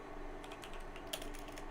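Keys tapped on a computer keyboard while a Cisco wireless access point is being set up, giving a few soft, scattered clicks that stay faint over a steady hum.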